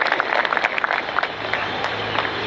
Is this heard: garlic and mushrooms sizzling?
no